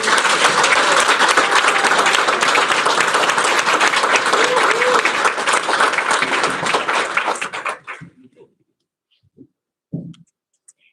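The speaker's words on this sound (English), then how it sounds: "another big round of applause for all of our graduates" An audience at a graduation ceremony applauds loudly and steadily for the graduates, then the clapping quickly dies away into near silence with a few scattered sounds.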